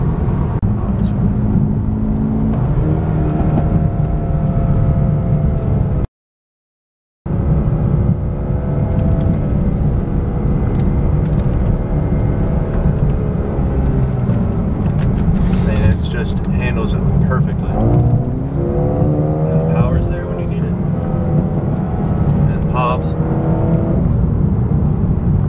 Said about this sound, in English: in comfort mode, you still hear get the turbo noises